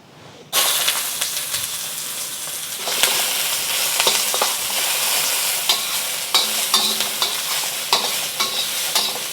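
Shallots drop into a hot wok over medium heat and burst into a loud, steady sizzle, with stirring scrapes and clinks ticking through the frying, up close and without talk.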